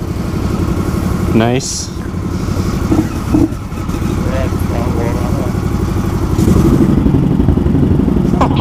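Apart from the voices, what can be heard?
Scout Bobber motorcycle engine starting and running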